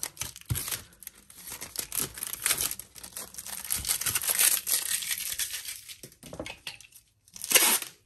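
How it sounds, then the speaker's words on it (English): Packing tape is pressed onto and pulled off a resin surface to lift dust, giving close crinkling and sticky peeling sounds in irregular bursts, with a louder tearing rip near the end and no voices. "what I'm going to do is just take my packing tape"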